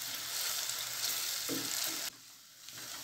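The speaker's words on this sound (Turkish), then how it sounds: "Böyle güzelce bir kavuralım." Finely chopped medium onions sauté in a hot pan for a Turkish bean dish, a steady loud sizzle and crackle that drops suddenly in level partway through, with no talking.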